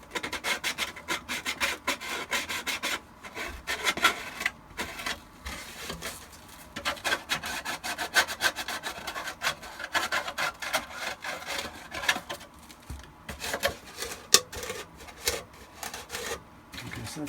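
Steady rasping and rubbing as the edges of a plastic Shadow Trooper armor piece are trimmed and filed smooth, in repeated close strokes with short pauses between them.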